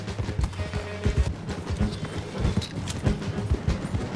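A horse gallops in Red Dead Online, its hooves striking in a steady, fast clip-clop rhythm. The hoofbeats are close and fairly loud, with a constant low rumble of movement beneath them.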